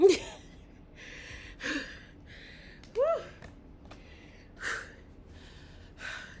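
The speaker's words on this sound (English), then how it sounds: "It's ridiculous how heavy I'm breathing" Heavy breathing after a workout, with sharp gasps and loud exhales recurring every second or two, close to the microphone, with quiet stretches between.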